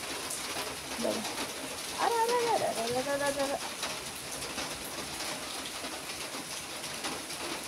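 Steady pre-monsoon summer rain falls with a constant hiss throughout, while a pigeon coos briefly in the middle and a voice speaks once.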